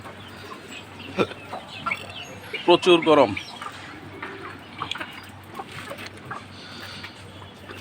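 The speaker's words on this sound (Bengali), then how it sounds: "এই দেখেন, সব মুরগি ভিতরে ঢুকে পড়ছে গরমে।" Chickens on a farm rooftop in hot weather cluck and squawk near the microphone, with a burst of louder calls midway. A person speaks briefly over the birds.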